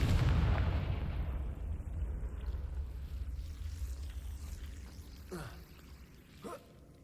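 The Confringo fire spell in Hogwarts Legacy bursts with a deep, booming explosion that rumbles loudly and slowly decays into a lingering low roar, with a couple of faint swooshing magical tones near the end.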